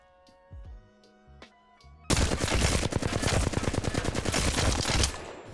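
Rapid automatic gunfire from a weapon in the Apex Legends video game, a dense, loud burst of closely spaced shots lasting about three seconds after a quieter stretch of faint in-game sounds.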